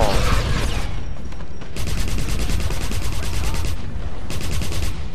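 In Wolfenstein, rapid gunfire fires flaming bullets in dense, loud automatic bursts with heavy booming impacts, continuous across the whole stretch with brief gaps between volleys, and a voice is faintly present underneath.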